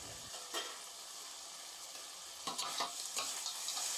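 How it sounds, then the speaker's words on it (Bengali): Fried fish heads go into a pan of spice masala, setting off a steady loud sizzle with a few clinks and stirring scrapes. "মশলাটা হয়ে গেছে, এবার আমি দিয়ে দিচ্ছি ভেজে রাখা মাছের মাথাগুলো।"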